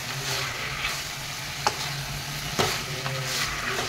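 Duck meat fries in a pan with a steady, dense sizzle while it is stirred. The crackle is close and continuous, and a couple of clearer scrapes or taps from the stirring utensil cut through it.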